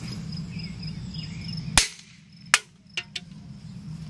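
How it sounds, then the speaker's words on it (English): A plain firecracker goes off inside a reinflated can with one sharp, loud bang, followed by a few smaller cracks and pops over a steady background hum, with no talking. "Let's drop another firecracker in there."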